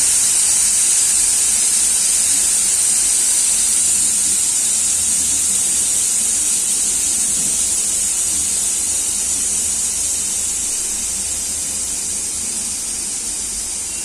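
Steady, loud steam hiss rushes from a pressure cooker with its whistle lifted, holding as a continuous broadband jet for the whole stretch and easing only slightly toward the end, with no voices over it.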